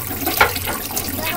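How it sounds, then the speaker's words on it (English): A 2006 Glacier Bay toilet flushes with a short, loud rush of swirling water, heard up close in a brief burst. "That was not a too powerful flush."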